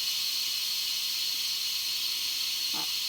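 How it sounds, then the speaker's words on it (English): Steady, loud hiss of steam venting from the pressure valve of an Instant Pot cooking frozen shrimp, continuous and close throughout with a brief faint knock near the end. "I'm going to release that valve. And it only takes a few minutes to let the steam go"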